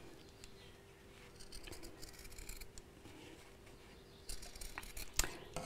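Scissors snip through lining fabric in short, quiet bursts of cutting strokes, trimming curved corners, close by with no talk.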